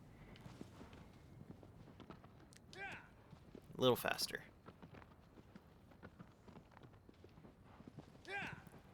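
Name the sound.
horse hooves clip-clopping in Shadow of the Colossus video game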